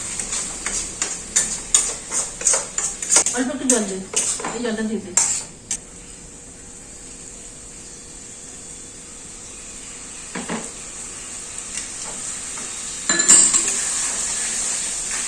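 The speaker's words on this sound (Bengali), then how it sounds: "ততক্ষণ আমি এটা নাড়াতে থাকি কারণ এটা মশলাটা" A spoon scraping and clinking against a pan while chicken masala paste is stirred, a rhythmic run of metallic taps and scrapes that fades into quiet, a faint sizzle beneath, with a few more clinks near the end.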